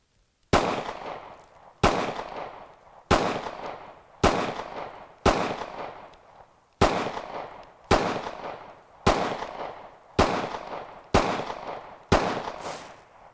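An SCCY CPX-2 handgun fires ten evenly spaced shots through a full magazine, each sharp loud crack followed by a short decaying echo outdoors, with no talking.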